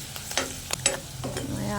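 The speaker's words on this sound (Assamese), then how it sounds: "এতিয়া মই এটা কেৰাহীত তেল গৰম কৰি লৈছোঁ আৰু পিঁয়াজখিনি মই এনেদৰে ভাজি আছোঁ" Onions sizzle in hot oil in a wok, with a few scraping stirs breaking through the steady frying hiss.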